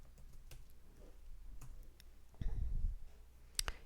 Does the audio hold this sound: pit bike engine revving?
no